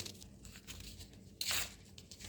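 A bag is handled close up, crinkling and rustling softly, then one brief, louder tearing crunch stands out before the quiet crinkles resume.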